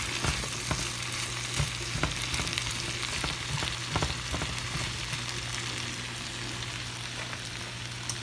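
Potato soup ingredients frying in a pot as they are stirred, a continuous close sizzle with scattered sharp pops and scraping clicks, no voices.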